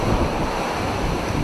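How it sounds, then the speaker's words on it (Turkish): Strong storm wind buffeting the microphone over crashing sea waves in Bodrum, a loud, continuous roar of gusts and surf with no voices. "Saatteki hızının zaman zaman 60 kilometreye ulaştığı şiddetli fırtına"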